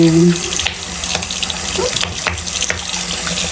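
Makeup brush rinsed under a running bathroom sink tap, a steady loud gush of water close up with small splashes and shifts as the brush moves through the stream.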